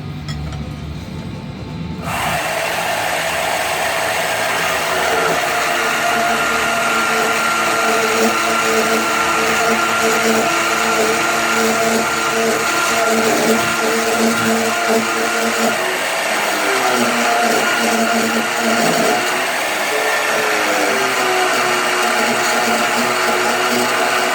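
A power tool cuts titanium sheet, starting after a brief quiet moment and then running as a loud, continuous, harsh whirring grind with a gritty, chattering edge. It keeps going steadily to the end.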